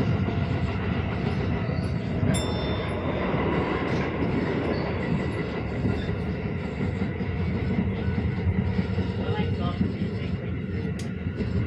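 A Tokyo Chiyoda Line subway train bound for Kita-Ayase rumbles steadily and close into Ayase station, wheels grinding along the rails, with faint brief squeals and chimes above the roar.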